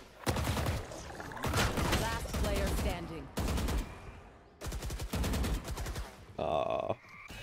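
Bursts of rapid gunfire from the shooter video game Valorant, loud, close fusillades in several separate volleys, with a voice talking over them.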